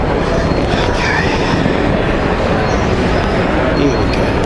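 Train at Circular Quay station in Sydney, a loud continuous rumble of rolling carriages with faint wheel squeal and rattling, close by and unbroken throughout.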